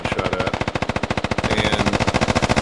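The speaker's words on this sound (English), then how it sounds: "Taking fire. Taking fire." Rapid automatic gunfire from a military video game, a steady fast stream of sharp shots rattling continuously and loudly with no pause or talk.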